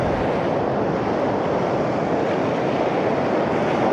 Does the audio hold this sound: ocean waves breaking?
yes